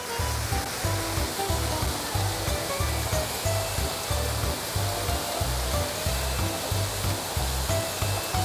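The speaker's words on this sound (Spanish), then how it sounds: "el agua que vemos correr por la fuente es de este mismo río" River water runs continuously through a street fountain in Catania, a steady rushing splash, close and fairly loud, with no voices over it.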